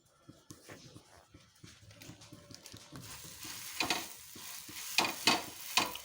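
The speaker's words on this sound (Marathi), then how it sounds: "तूप टाकून घेतलं होतं आपण तव्यावर पाव भाजायसाठी." Pav bread toasting in ghee on a hot tawa for street-style Mumbai pav bhaji, with scraping and stirring strokes over a soft sizzle that grows louder and more crackly midway, with sharp bursts near the end.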